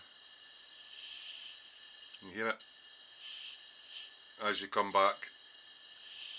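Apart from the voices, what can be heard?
airbrush spraying air with an empty cup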